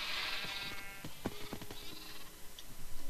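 Sheep bleating in the video game Minecraft, a few wavering bleats over a steady game background with no talking.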